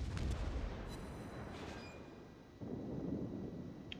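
Heavy guns of the battleship Scharnhorst firing on a New York in a naval combat game, a deep rumbling boom that rolls on steadily, swelling again near the end.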